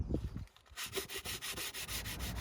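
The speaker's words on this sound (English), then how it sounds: "I'm just going to give it a light sand before I give it a nice varnish" Rhythmic rubbing strokes of sandpaper across a stripped wooden garden gate, about twenty years old, with paint and varnish removed; steady close back-and-forth scraping that starts after a brief quieter moment and continues evenly.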